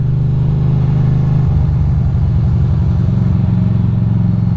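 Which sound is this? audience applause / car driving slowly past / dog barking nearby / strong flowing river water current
car driving slowly past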